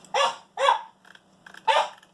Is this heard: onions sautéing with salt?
no